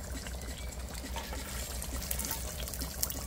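Water from a pot of boiled eggs drained off at an outdoor fireside chulha, heard as a steady close rushing pour and trickle that runs continuously throughout, loud and without speech.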